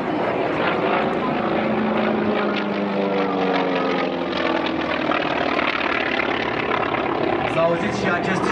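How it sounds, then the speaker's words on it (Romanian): Radial piston aircraft engines at an air show over Bucharest, a sustained loud propeller drone with a thin supercharger whistle riding on top, steady throughout with a faint voice underneath. "S-a auzit și acest șuierat specific motorelor în stea. Este vorba despre sucalimentarea care conferă putere în plus."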